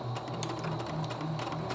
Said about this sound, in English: sew a straight seam at 1/4 inch seam allowance